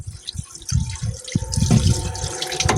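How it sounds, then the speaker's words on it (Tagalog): Running tap water splashes steadily over chicken intestines being washed by hand in a sink, with close, uneven gurgling and dripping that grows slightly louder. "So ayan guys, hugasan nyo lang."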